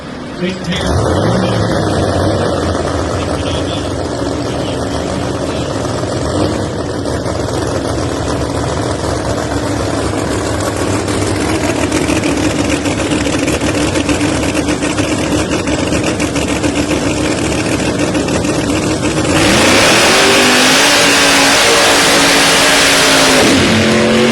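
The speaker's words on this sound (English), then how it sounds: "Hells Bells Chevrolet for Johnny Camp will be on the left-hand side of the racetrack, the black and orange 69 model Chevrolet" A supercharged black and orange 1969 Chevrolet drag racing car roars loudly and continuously at the racetrack, building into a harsher, brighter blast near the end, while an announcer talks over it.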